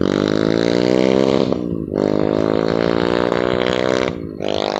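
A bored-up Kawasaki KLX 150 trail motorcycle engine revs hard and close. It holds buzzing high-rpm blasts with brief drops off the throttle between them.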